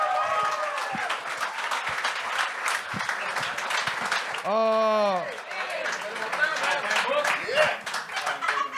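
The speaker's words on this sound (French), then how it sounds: "Applaudissez, s'il vous plaît, Didier Lambert!" A studio audience claps and cheers loudly as a comedian walks on, dense sustained applause throughout, with whoops and a voice shouting over it partway through.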